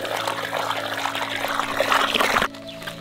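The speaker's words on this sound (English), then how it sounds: "Step one, add water." Water poured into a container to soak moss for a terrarium, a steady close splashing pour that runs for about two and a half seconds before cutting off abruptly.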